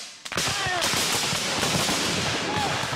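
A volley of gunfire rings out after shouted commands to fire, loud and dense with overlapping cracks and echoing reports that fill the whole moment.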